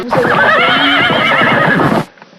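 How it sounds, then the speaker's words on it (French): A horse whinnies loudly and close in a cartoon Western, a long, wavering neigh with faint hoofbeats beneath, ending abruptly after about two seconds. "Il arrive au galop, le cowboy héros."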